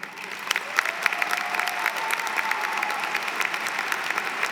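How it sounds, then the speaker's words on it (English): A commencement audience applauds faculty and staff in a steady, sustained round of clapping from a crowd, even and continuous with no talk over it. "And I want to take a minute to recognize them and applaud them."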